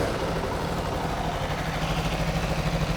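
A 2019 Aprilia RSV4 1100 Factory superbike engine idles with a steady, throbbing low rumble, even and unbroken for the whole stretch, fairly quiet and heard alone.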